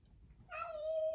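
A domestic cat gives a single drawn-out meow that starts halfway through and holds steady to the end, close and moderately loud over a low background hum.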